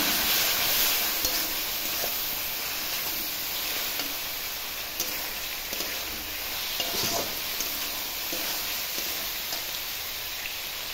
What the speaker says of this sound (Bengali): দিয়ে দিলাম ভাজা মশলা। ধনে এটা ভাজা মশলা, এটা দিয়ে কষবো।